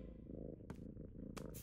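A black cartoon cat from an animated Polly Pocket episode purrs in a steady, close, low rumble that runs the whole time, with a couple of brief airy bursts over it and no talking.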